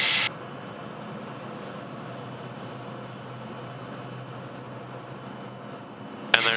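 An LX7 turboprop aircraft engine powering up for takeoff, heard from inside as a steady, broad droning roar with a constant hum, moderate and continuous, with short bursts of cabin noise at the start and end.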